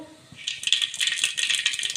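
Mustard and cumin seeds splutter in hot oil inside a pressure cooker for spicy Kathiyawadi khichdi, a dense, close rattling crackle of rapid pops that builds after a quiet start and keeps going.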